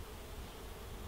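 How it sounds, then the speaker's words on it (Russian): Honey bees fly near a hive, giving a faint, steady buzzing drone with no voices over it. "Вот эта пчела, что летает, это уже молодые пчелы"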